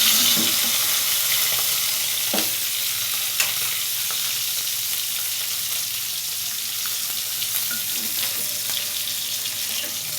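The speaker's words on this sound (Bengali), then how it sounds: "তো এই যে আমার মাছ ভাজা হয়ে গেছে, এক একটা উলট পালট হয়ে গেছে" Tilapia fish pieces fry in oil in an iron wok, producing a steady, loud, continuous sizzle with occasional faint clinks, close by and with no talking.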